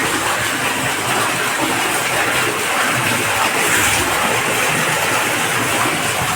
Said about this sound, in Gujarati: મિત્રો જોરદાર પાણી આવી ગયું